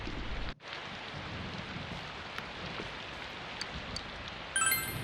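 Rain in the video game Persona 4 Golden, a steady hiss of falling rain with a brief dropout near the start and faint chime-like game effects toward the end, no talk.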